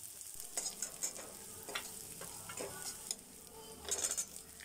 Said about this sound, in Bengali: পেঁয়াজটা ভালো করে ভাজা হলে তারপর এতে আমরা আদা বাটাটা দিয়ে দেব।